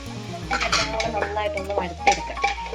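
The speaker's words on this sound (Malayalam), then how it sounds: "ഇതെല്ലാം നമുക്ക് മിക്സ് ചെയ്ത് നല്ലപോലെ ഒന്ന് വരട്ടിയെടുക്കാം" Chopped tomato and green chillies stirred in a cooking pot for biryani: a metal spoon repeatedly scrapes and clinks against the pan in an irregular rhythm, close and fairly loud, with a low background hum.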